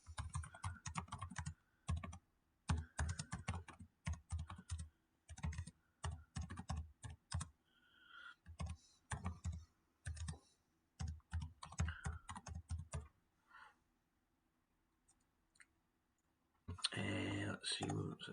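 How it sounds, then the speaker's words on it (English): Text being entered on a computer keyboard, quiet bursts of quick key clicks separated by brief pauses, close and fairly soft, with a short spell of talking near the end. "so we just type that in"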